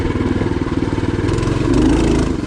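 A Trailmaster Hurricane 200 dirt bike fitted with a Tillotson 212 engine rides a trail, its loud, close single-cylinder engine throbbing steadily and rising slightly as it pulls.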